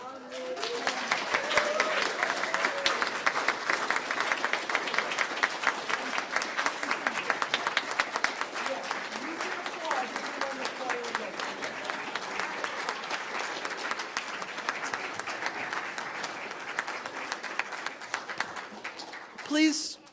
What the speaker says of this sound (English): I am going to ask for a round of applause for our new